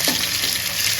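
Paarai fish pieces fry in a hot pan with a steady, close, loud sizzle that holds evenly for a moment, and no one speaks over it.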